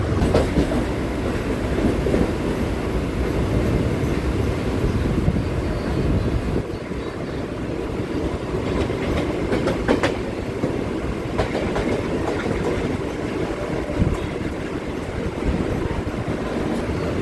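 A Virar–Dahanu local passenger train runs steadily at Dahanu, with a loud continuous rumble and a clickety-clack of wheels over the rail joints, heard from close by for the whole stretch.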